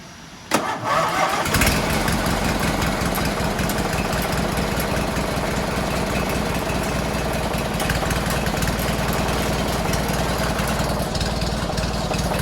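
A heavy tractor engine cranks, catches with a sharp burst, then settles into a loud, steady rumbling idle close by.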